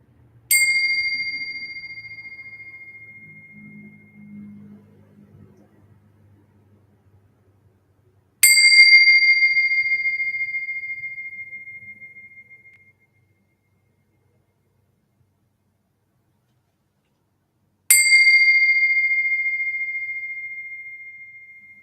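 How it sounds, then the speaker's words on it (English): A singing bowl or chime-style bell rings out three separate times at roughly nine-second intervals, each clear tone sustaining and fading slowly, with faint low murmuring under the first strike. "I'll have the bells ringing"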